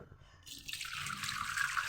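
Hot water is poured into a pot of Maharashtrian amti curry, a steady bright rushing splash that starts abruptly and grows slightly louder as it continues, close by.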